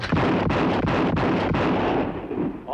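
Rapid rifle shots in a shooting contest from a TV western ring out close and loud, about five evenly spaced cracks with echoing tails running into one another.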